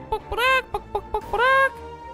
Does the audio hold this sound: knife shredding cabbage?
no